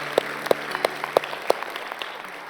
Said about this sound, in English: Come on, let's give God a round of applause.